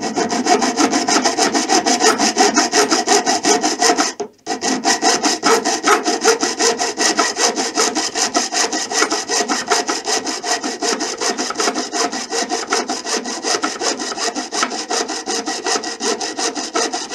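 A manual scroll saw cutting through wood gives a steady, loud rasping of rapid back-and-forth strokes, broken by one brief pause near the start, with no voices.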